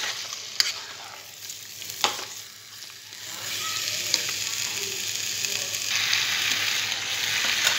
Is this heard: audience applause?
no